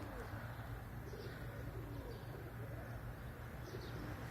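Pigeons coo softly in a low, rolling murmur, faint and continuous against a quiet background.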